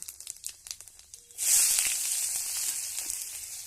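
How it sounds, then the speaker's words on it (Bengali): Onion and panch phoron spices hit hot oil for a leafy greens dish, bursting into a loud, steady sizzle after a few quiet crackles, then hissing continuously close by with no talk. "এই দিয়ে দিলাম পেঁয়াজ আর 5 ফোড়ন।"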